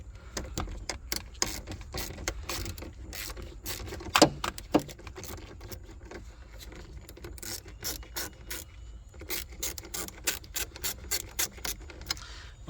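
A 10 mm wrench loosens the battery terminal on a 2011–2017 BMW X3 F25, producing quiet, close, irregular ratcheting clicks in quick bursts with a few sharper metallic knocks.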